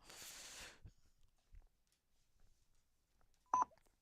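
Telephone keypad dialing tones during a cold-calling session: one short, sharp beep stands out near the end after some faint handling noise and a brief burst of rustle at the start, all fairly quiet.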